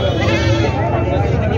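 Goats bleat at the Vasmat goat market in Maharashtra, beside the Parbhani–Vasmat highway. A drawn-out wavering bleat rings out close by, with a voice talking under it.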